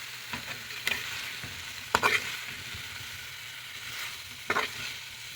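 Fried potato and cauliflower are mixed with masala in a pan over a low gas flame, a soft continuous sizzle with a few distinct scraping stirs of a spoon and no voices.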